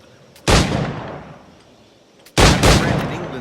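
Two loud firearm shots from Assassin's Creed Black Flag, each a sharp blast followed by a long rolling decay, about two seconds apart, with no talk over them.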